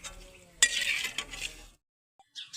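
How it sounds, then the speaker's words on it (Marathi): Curry leaves crackle and sizzle in hot oil over a wood-fired stove for Diwali murmura-poha chivda, a loud burst of frying with stirring clinks, then falling silent before a brief faint clatter. "आपला कडीपत्ता हा तयार झालेला आहे तेलामधून काढून तर हे बघा याचा आवाज बघा"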